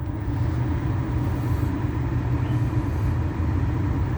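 The dual zone climate control fan in a 2015 Nissan Qashqai 1.5 dCi, running fully on inside the cabin: a steady, loud, low-heavy whooshing rush of air that holds unchanged throughout, with no talking.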